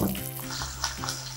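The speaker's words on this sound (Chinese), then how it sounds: "再将只鸭放翻落锅" Duck pieces go back into a hot wok with ginger, cinnamon bark and dried tangerine peel, setting off a close, steady sizzle and crackle of frying that runs throughout.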